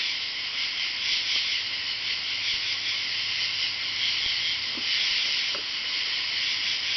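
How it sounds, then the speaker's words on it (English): A dense, steady chorus of high-pitched trilling calls fills the night air, loud and continuous without a break, like many frogs calling at once. "But I do believe that's tree frogs. And they are loud."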